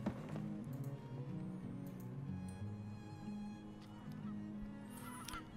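A flock of birds honks like geese as it passes over a town in Farthest Frontier, the calls faint and scattered over quiet ambient game music.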